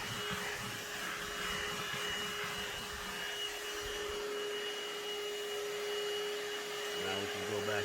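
A ThisWorx portable corded handheld car vacuum cleaner runs steadily on car carpet, a loud continuous motor whine with a sustained hum, its pitch shifting slightly near the end as the nozzle works the fibers.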